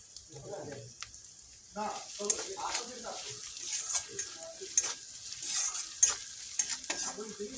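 Curry sautés in a pan as kasuri methi goes in, giving a faint, steady sizzle with repeated scraping stirs and clatter from a spoon. The sounds are close but quiet, and a voice speaks briefly near the start.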